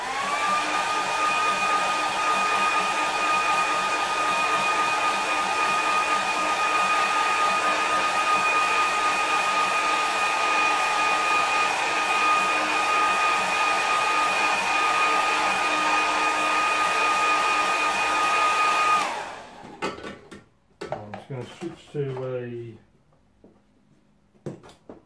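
A hair dryer blasts a watercolour painting of a Scottish landscape in a steady, loud whirring roar that runs for about nineteen seconds, then cuts off abruptly, leaving brief clatter and a few spoken words.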